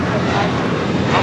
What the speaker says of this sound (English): KLM in the KLM 100 years livery, the next takeoff.